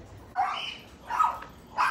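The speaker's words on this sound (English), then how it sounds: "There's like three dogs over there." Three dogs barking over there outdoors, heard as three separate barks spaced about a second apart at moderate distance, with a faint whimpering edge and no talk.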